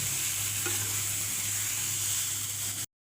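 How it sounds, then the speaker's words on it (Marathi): Steady sizzling of onion roasting on a hot griddle, close and continuous, with a brief scrape partway through before it cuts off. "एका तव्यावर मी आता कांदा भाजून घेत आहे"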